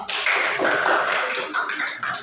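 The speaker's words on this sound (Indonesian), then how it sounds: "kita akan tepuk tangan untuk kelompoknya Reva, Regina, dan juga Ciko" A junior high school class in Kapuas Hilir applauds a student group in the classroom: dense, steady clapping from many hands that continues for about two seconds and eases slightly toward the end.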